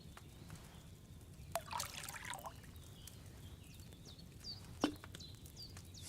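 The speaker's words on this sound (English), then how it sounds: "So, what did you pour in there? Wine, of course." Wine poured into a cauldron in a video game, a soft faint trickle of liquid with brief splashes and a couple of light knocks over a low background hum.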